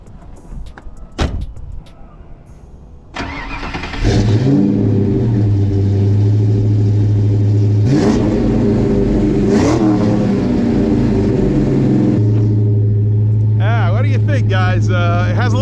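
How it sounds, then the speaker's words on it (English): A Fox Body Mustang engine cranks briefly, catches and settles into a somewhat high idle, with a couple of throttle revs swelling up, heard close after a few soft sounds, with a voice at the start. "I should let you hear it crank up, give it a little start"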